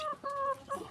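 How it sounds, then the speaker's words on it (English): Farm chickens give a few short, close clucks and tonal calls in quick succession over a quiet background. "And the chicken, the birds are enjoying."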